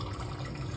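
Water rushes steadily into a hydroponic grow system as it fills, a dense continuous broadband pour heard close and alone.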